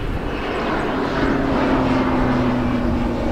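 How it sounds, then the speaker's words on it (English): A propeller airplane flies overhead above farm fields, its steady engine drone swelling slightly and holding a sustained tone with no talk. "There goes the plane."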